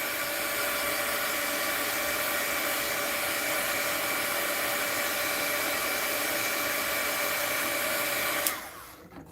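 A hair dryer blowing on wet watercolor paint and paper: a steady, loud whir running unbroken for several seconds, then cutting off abruptly near the end.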